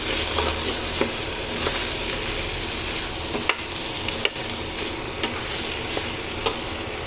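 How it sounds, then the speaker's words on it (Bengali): Rice stirred and fried with vegetables in a pan for vegetable khichuri, giving a steady close sizzle with scattered scraping taps from the spoon, no voices. "এখন এই চালটাকে আমি এগুলোর সাথে ভেজে নেব। বেশ খানিকটাক্ষণ ভাজবো।"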